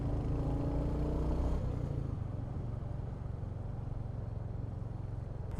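A road vehicle's engine rises in pitch and revs through an overtake on a group ride, then settles into a low, continuous rumble, fairly close and without any talk.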